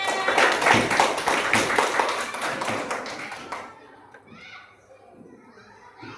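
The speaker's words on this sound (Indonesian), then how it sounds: "Ayo beri tepuk tangan dulu untuk temannya." Fifth-grade pupils in an Indonesian classroom clap for a classmate, a dense, lively burst of many small hands lasting a few seconds before stopping abruptly, with children's voices mixed in and quieter chatter afterward.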